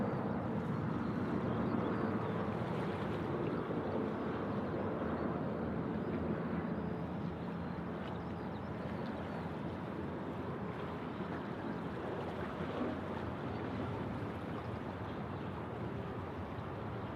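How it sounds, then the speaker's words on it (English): A Qantas Airbus A330 arriving from Melbourne comes in to land on Sydney Airport's left runway, a steady, broad jet roar that holds at an even level throughout with no voices heard. "Qantas 414. This is an A330 coming in from Melbourne on runway left."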